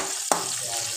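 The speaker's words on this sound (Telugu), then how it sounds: "ఆయిల్ హీట్ అయ్యాక పచ్చిమిర్చి వేసుకోవాలి. పచ్చిమిర్చి కాస్త వేగాలి." Green chillies dropped into hot oil in a pan for a country chicken curry, giving a sudden sharp sizzle that settles into a steady, close hiss of frying for the rest of the moment.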